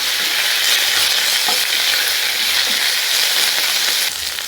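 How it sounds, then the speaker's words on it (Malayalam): Curry leaves frying in hot oil for a vegetarian curry: a dense, continuous crackling sizzle with occasional soft stirring scrapes, close and loud, easing slightly at the very end. "കറിവേപ്പില ചേർത്തിട്ട് നന്നായിട്ടൊന്ന് വറുത്തെടുക്കാം."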